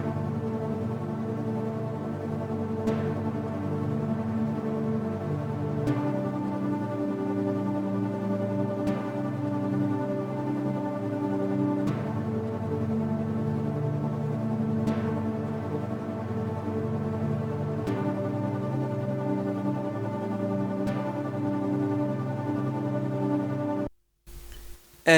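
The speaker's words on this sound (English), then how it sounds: "For this sample, I started with two pads from Zenology." Two layered Zenology synth pads, Clean Me and Trance Synth, sustain a warm, steady chord that shifts every few seconds, with no talk, before cutting off abruptly near the end.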